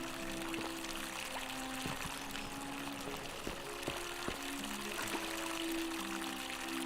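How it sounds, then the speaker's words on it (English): Water pours steadily from a fountain in The Forgotten City, a soft continuous splashing trickle heard at low level, mixed with faint tonal ambience and no talking. "Fountain producing water."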